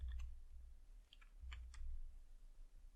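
Quiet typing on a computer keyboard, a few scattered key clicks in short bursts over a low background hum, no speech.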